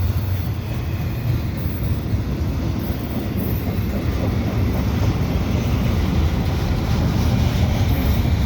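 A Canadian Pacific freight train of container-carrying well cars rolls past at Dorval in winter, a loud, steady rumble with rhythmic wheel clatter and faint squeal continuing throughout.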